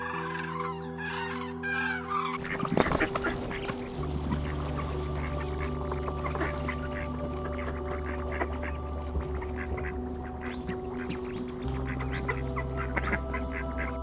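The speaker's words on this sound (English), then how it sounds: "Birds calling to each other" Migratory water birds on a Bengaluru lake give repeated duck-like quacks and honking calls, overlapping and fairly close, over a steady background drone with soft music-like tones running underneath.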